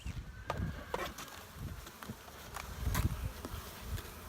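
Honeybees from a new nuc buzz close around the hive, a continuous droning hum with individual bees passing near the mic, no talking.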